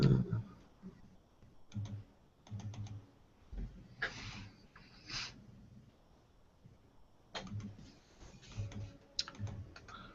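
Mouse clicks while trying to start a screen share: scattered sharp clicks in small clusters against a quiet room, close and fairly soft, with a few busier bursts of rapid clicking.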